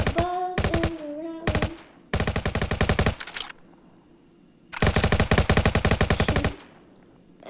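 Rapid automatic gunfire from the Roblox game Jailbreak comes in several loud bursts of fast, evenly spaced shots. Short pauses separate the bursts, and no one speaks.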